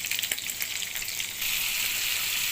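Onions fry in oil rendered from Goan sausages, a dense steady sizzle with a few light stirring taps early on, close and free of speech.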